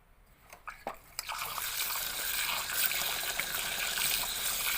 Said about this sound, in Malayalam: പിന്നെ ഒതുക്കി വെച്ചതിന് ശേഷം നമുക്ക് നനച്ചു കൊടുക്കാം.